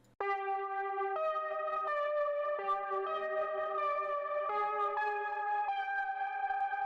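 A clean, somber synthesizer lead plays a slow, sustained melody of held notes stepping between pitches, smooth and echoey with no voices.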